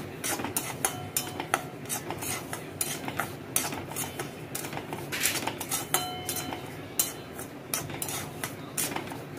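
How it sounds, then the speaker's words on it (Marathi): Semolina being dry-roasted and stirred in a kadhai over a low flame, with a spoon scraping and clinking against the pan in a steady, close, repetitive rhythm. "आता मी कढई ठेवून रवा टाकून मस्त असा आटून परतून घेणार आहे"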